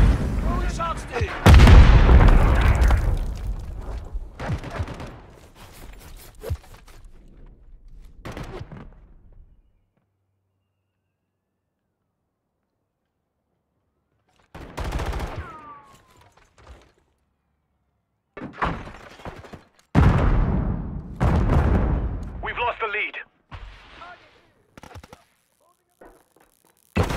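Gunfire and explosions from a Call of Duty MW3 match, heavy bursts of booming shots and thuds in clusters with a silent gap in between, loud and close, with some voices in the mix.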